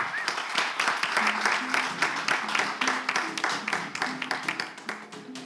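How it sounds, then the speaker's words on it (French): Studio audience applause for a winner of a Togocom radio call-in contest, steady clapping throughout with short rhythmic bursts, a faint tonal line of background music or a voice underneath. "On applaudit également"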